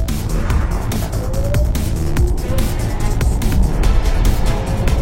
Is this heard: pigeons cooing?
no